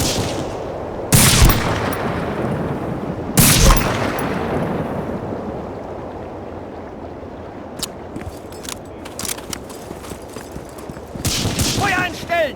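Gunfire in the video game Medal of Honor: Frontline, two loud heavy blasts early on followed by scattered sharper shots and rattling bursts over a rumbling battlefield din, with shouted voices mixed in.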